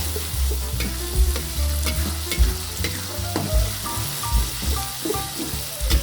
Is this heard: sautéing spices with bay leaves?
yes